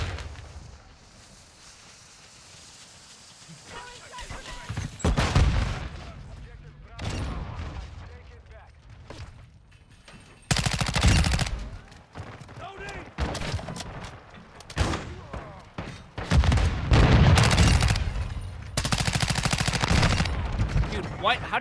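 Hip-fire and automatic gunfire from a Chimera (Honey Badger) rifle in Modern Warfare 2 multiplayer, with loud rapid bursts in several clusters, separated by quieter stretches with game ambience and faint footsteps.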